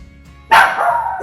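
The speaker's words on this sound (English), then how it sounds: "so those are my dogs, and guys, those are the little twins" Small half-Pomeranian dogs, two young twins, let out a sudden loud burst of high, yappy barking after a quiet start, continuing in close overlapping yips to the end.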